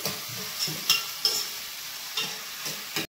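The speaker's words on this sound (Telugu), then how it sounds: "కొద్దిగా ఆనియన్ మగ్గాలి" Onions sautéing in a pan for a bitter gourd fry, a soft continuous sizzle broken by regular scrapes and clinks of a stirring spoon, close by with no talk.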